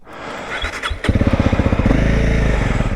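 Motorcycle setting off on a ride: a brief starter crank, then the engine catches and idles in a loud, close, rapid pulsing thump that steadies into a deeper rumble.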